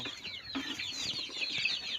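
Young chickens being raised together in a pen give short, overlapping clucks and chirps, a steady, fairly close chatter of many birds with no voices over it.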